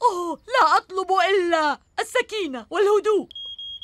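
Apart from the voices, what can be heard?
smoke alarm beeping, fire alarm in a cartoon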